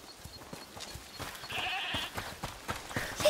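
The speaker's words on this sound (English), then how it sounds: "Is that the goat he talked about?" A goat in the video game A Plague Tale: Requiem bleats a few times, moderately close, over a quiet background with soft clicks and rustling.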